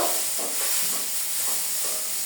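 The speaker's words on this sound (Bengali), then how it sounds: "মশলাগুলো দেওয়ার পরে কিছুক্ষণ নাড়াচাড়া করে নেব" Spices for a rohu fish curry hiss and sizzle in a pan, a dense, steady frying noise with soft stirring pulses underneath, and no voices.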